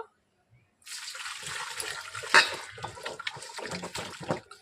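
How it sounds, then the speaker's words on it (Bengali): Raw mangoes washed by hand in a basin of water, with splashing, sloshing and dripping up close after a brief quiet start, including one sharper splash midway. "আমগুলোকে এখন আমি গামলার মধ্যে ধুয়ে দিচ্ছি ওগুলোকে জলে ধুয়ে নেব"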